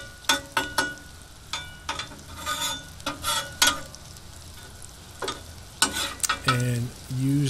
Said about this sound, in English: We're going to move some of that extra bacon grease over, get out of the way, and just kind of push it up there in the corner.